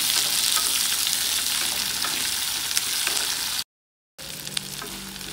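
Curry leaves and dried red chillies frying in hot oil for a Kadalai paruppu chutney, a steady loud sizzle running unbroken, cutting out for a moment near the end, then resuming with a low hum underneath.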